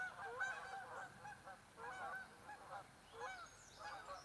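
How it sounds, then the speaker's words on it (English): Canada geese honking in flight, several faint repeated honks in loose bursts heard from a distance outdoors near woods and a pond. "We're gonna watch the Canada geese"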